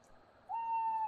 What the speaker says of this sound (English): An owl.